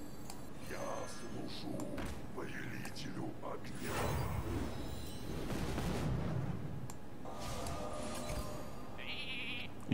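Sheep in an arena video game bleat repeatedly in short wavering calls, mixed with mechanical game effects and muffled voices throughout.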